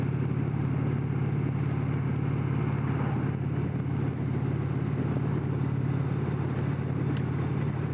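An Indian Challenger motorcycle ridden in fifth gear at about 45 mph, carrying a passenger, produces a steady low engine burble under constant wind rush, with no break in the drone.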